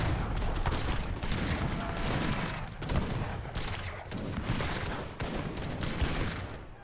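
Dense cannon fire and gunfire from a real-time strategy game battle with cannons and war wagons. Loud overlapping shots and blasts pound on continuously throughout.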